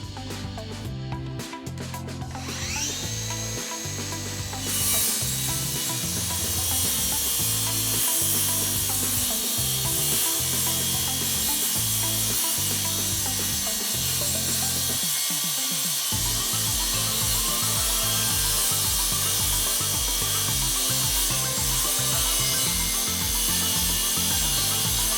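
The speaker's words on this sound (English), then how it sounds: "The first cut we make along this rubber strip pairs the saw with its track" A Ryobi 18V ONE+ HP cordless brushless plunge saw trims the rubber strip along its track. After a short start-up it settles into a loud, sustained whirring cut with a rhythmic, pulsing grind.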